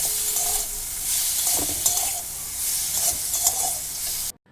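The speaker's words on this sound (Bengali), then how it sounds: "লবণ দিয়ে ভালো করে মিশিয়ে নেবো" Salted vegetables fry in a pan and are stirred, so a steady sizzle runs under repeated scraping strokes until it cuts off abruptly at the end.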